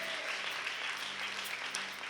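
Church congregation clapping during a worship service, a faint, steady patter of applause from a group.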